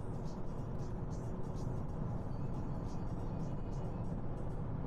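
A Citroen C5 Aircross on a road drive, engine and tyre noise building as it pulls away after braking, a steady moderate hum heard from inside the cabin.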